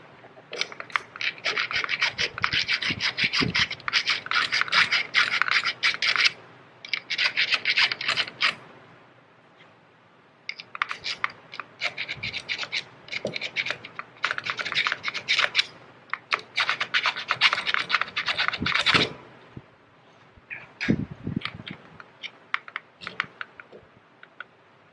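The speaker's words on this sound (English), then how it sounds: "Just file that little burr off real quick because these aren't going in right now. Let's grab a little square file." A small square hand file rasps a burr off a metal part while a burnishing and polishing machine is being installed, making long bursts of close, gritty scraping strokes with brief pauses between them.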